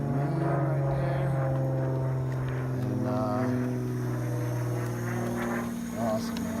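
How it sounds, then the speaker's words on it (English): A steady droning engine hum holds throughout, like a propeller plane passing overhead, with wind noise and faint voices underneath. "There's that plane right there."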